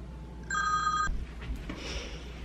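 A telephone rings once with a bright electronic trill, clear and fairly close, in a quiet room where a table is being screen printed with a flower design; no one speaks.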